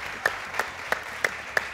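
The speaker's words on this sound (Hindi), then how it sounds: "उसके लिए तालियां बजाओ जरा" At a poetry gathering, a few sharp claps land in a steady, evenly spaced rhythm, five distinct strikes in quick succession over a quiet background.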